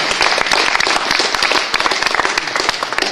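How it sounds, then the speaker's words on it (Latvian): An audience breaks into sustained applause to welcome a speaker at a talk, a dense, steady wash of many hands clapping loudly throughout, with no speech over it. "un sagaidām viņa ar aplausiem"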